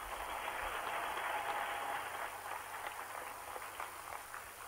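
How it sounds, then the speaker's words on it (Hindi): Audience applause after a speech at a state forest festival event in Jharkhand, a dense steady clatter of many hands that carries on throughout at moderate level. "और भी जोरदार तालियों के साथ आभार व्यक्त करें"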